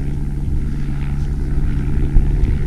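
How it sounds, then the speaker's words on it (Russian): A sightseeing tourist helicopter flies near Mont Blanc, a steady distant rotor and engine drone that holds at an even level throughout, with no voices. "Похож на прогулочный вертолет, туристический."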